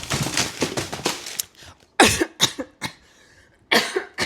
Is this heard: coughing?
yes